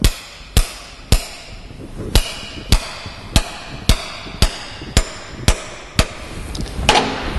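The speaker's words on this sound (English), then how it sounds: "use a socket or the special tool to hammer it all the way home" Steady hammer blows drive a spigot bearing into a Land Rover Discovery 2 TD5 crankshaft about every half second, eleven sharp ringing metal impacts in a row, close and loud, with no talking.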